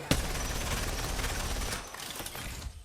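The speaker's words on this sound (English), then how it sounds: "when you first shoot Sheila, bullets are going to go up a bit" Rampart's minigun Sheila from the video game Apex Legends fires a steady, loud, rapid stream of shots for nearly three seconds, starting with a sharp first report and then fading out.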